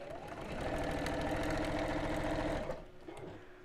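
A sewing machine runs at a slow, steady pace, its mechanical whirr and regular stitching rhythm close and clear for about two and a half seconds before it stops, leaving quieter handling noise.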